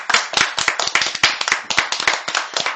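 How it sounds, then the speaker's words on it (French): Audience applauding with steady, fairly loud clapping that carries on alone throughout, given in gratitude during a French television show. "je vais vous applaudir"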